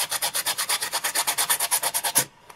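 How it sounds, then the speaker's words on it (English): Light sanding of a dried piece coated in Mod Podge: about twenty quick, even back-and-forth scratchy strokes, close and clear, stopping abruptly with no talk. "Just going to give it a light sanding."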